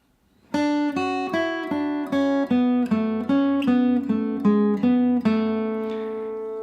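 A clean guitar plays the closing tag of "Devil's Dream", about a dozen plucked notes in steady rhythm, ending on a ringing sustained chord, close and alone.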